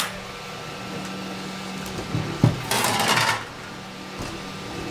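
An Anycubic i3 Mega 3D printer is flipped over, giving a short cluster of clunks and a brief metallic rattle at mid-clip against a steady hum, with no talk.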